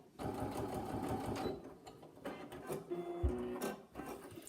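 Sewing machine stitching a border all the way round a piece of fabric for a fabric pot, a rapid mechanical whirring that stops and starts in several close bursts.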